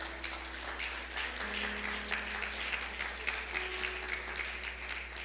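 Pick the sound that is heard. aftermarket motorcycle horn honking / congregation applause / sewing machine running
congregation applause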